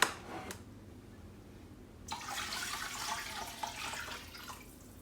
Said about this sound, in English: I'm just going to go ahead and pour in 6 cups of chicken stock